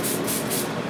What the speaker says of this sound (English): With screen degreaser, you're going to spray it on.